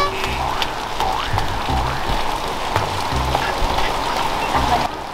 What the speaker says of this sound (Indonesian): Iya, Li, asik kan mandi hujan.